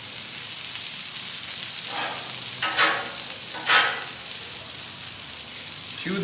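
Mushrooms and onions sizzle in a hot pan, a steady close frying hiss with two brief louder surges as they are stirred.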